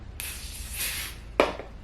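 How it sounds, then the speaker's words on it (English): An aerosol hair holding spray hisses in one long burst lasting about a second, followed by a short second spritz, close and fairly loud. "So spray a little bit of the holding spray."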